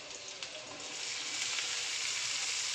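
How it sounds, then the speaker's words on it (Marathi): Chopped okra and green chilies frying in hot oil in a pan, giving a close, steady hiss of sizzling that swells slightly after the first second and continues unbroken, with no talk. "मिरची जराशी फ्राय करून झाल्यानंतर त्यामध्ये घालायची आहे चिरलेली भेंडी."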